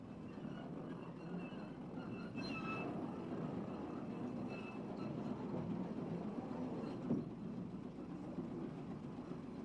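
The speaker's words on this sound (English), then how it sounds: "a Class 33 diesel brings a train loaded with segments into the sidings at Shakespeare Cliff" A Class 33 diesel locomotive hauls a train loaded with tunnel segments into sidings at Shakespeare Cliff beside the Folkestone to Dover line, giving a steady, continuous low rumble at moderate distance throughout.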